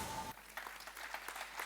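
A brief burst of audience applause at an innovation demo day starts abruptly and continues as a dense wash of clapping.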